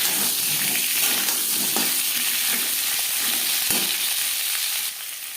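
Sliced potatoes hit hot oil with panch phoron and bay leaf, giving a loud, steady close sizzle and crackle of frying with occasional stirring scrapes, no voices.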